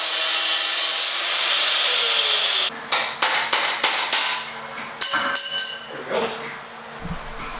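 Saw cutting a section off an exhaust pipe for a turbo LS Mustang custom exhaust, a loud steady rasp followed by a run of sharp strokes and knocks, close by.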